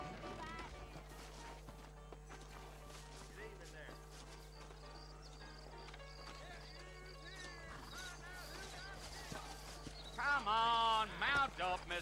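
Saddled horses clip-clop at a trot in the Western video game Red Dead Redemption, a steady hoof rhythm under game music and voices, with a louder burst of activity near the end.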